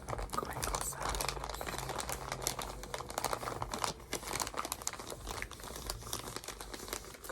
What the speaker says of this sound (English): so we have crinkle sounds, crinkle sounds